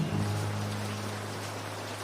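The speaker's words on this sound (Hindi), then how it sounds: "बारिश अपना काम कर रही" Steady rain falls as a dense, even hiss of drops with no pauses, filling the short moment at a fairly loud level.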